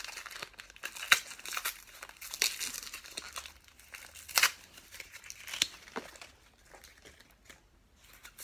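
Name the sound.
unwrapping a wrapped package by hand, paper crinkling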